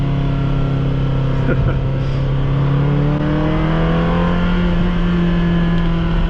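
A Ferrari's engine drones loudly and close while driving, its pitch climbing slowly as the revs build, with no break in the sound.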